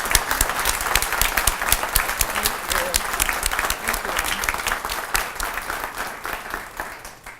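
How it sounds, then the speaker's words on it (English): Audience applause at a building groundbreaking ceremony, a continuous crowd of hands clapping steadily and fairly close for the whole stretch, tapering slightly at the end. "Can you please join me in a round of applause?"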